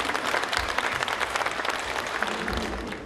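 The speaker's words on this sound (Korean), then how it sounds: "열정의 박수를 부탁드립니다" An audience at an eco-friendly agriculture forum applauds after a professor's lecture, with steady, dense clapping from a full hall that holds for several seconds before easing slightly.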